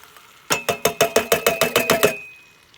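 A spoon stirs diced tomatoes into a pot of simmering oxtails, giving about ten quick, evenly spaced clanks in a steady rhythm for under two seconds, close and fairly loud with no talking.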